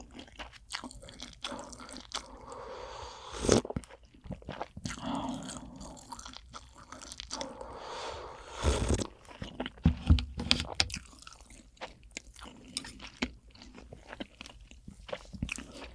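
Close, quiet crunching and wet chewing of giant rock oysters, with squishy bites and slurps in irregular bursts and small clicks between them, and no talking.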